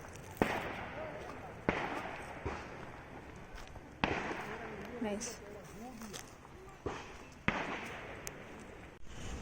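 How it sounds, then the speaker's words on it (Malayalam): Fireworks explode in Darjeeling, West Bengal, with about half a dozen sharp, loud bangs at irregular intervals, each fading into a rumbling tail, while people talk nearby. "അമ്പലത്തിലൊക്കെ കമ്പം പൊട്ടുന്ന പോലെയാണ് സൗണ്ട് കേൾക്കുന്നത്"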